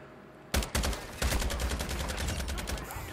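Sniper rifle fire in a video game, a sudden loud burst of sharp reports followed by sustained rattling gunfire and chaotic noise, with no talk.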